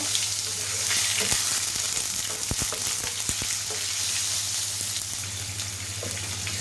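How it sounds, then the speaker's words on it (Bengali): Chopped tomato frying in hot oil in a pan for chicken biryani masala, a steady close sizzle with a few stirring clatters and scrapes, no talk. "টমেটোটা দিয়ে এখন হচ্ছে আমি একটু ভাজা ভাজা করে নিব"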